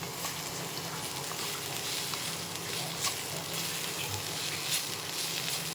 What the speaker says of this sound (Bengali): তো মূলোগুলো ভেজে দিলাম।